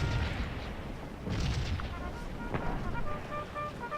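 Cannon fire in the Napoleonic battle game Scourge of War, dull booming artillery reports rolling over a noisy battlefield rumble, with a few distant thuds and faint tonal game sounds, no talking.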